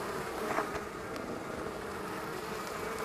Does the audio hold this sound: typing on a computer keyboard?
no